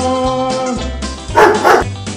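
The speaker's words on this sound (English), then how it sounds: "You might as well bark." A dog barks and yips in several short, loud bursts close by, with tonal whines between the barks.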